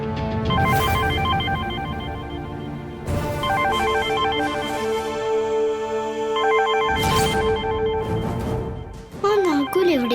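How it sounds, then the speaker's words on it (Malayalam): A mobile phone ringtone playing a repeating electronic melody, loud and close, in bursts separated by brief gaps, with a short tonal flourish at the end. "അയാളുടെ ഫോണിൽ റിംഗ് ചെയ്യുന്നത്."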